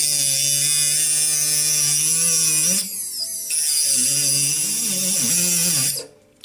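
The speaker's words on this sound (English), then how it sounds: "I'm going to first of all cut the old handle of the needle file off." A cutting disc on a rotary tool slices through the soft handle of a needle file, giving a loud, steady high-pitched whine that dips briefly as the disc bites, then resumes before spinning down at the end.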